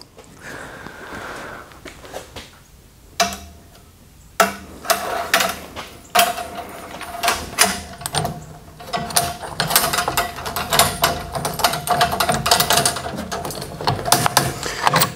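A sawmill blade sharpening machine runs close by with rapid ratcheting, clicking mechanical strokes that come in an uneven rhythm and build to a denser, louder clatter over about fifteen seconds.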